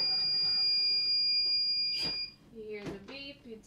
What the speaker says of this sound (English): You hear the beep, you take it out.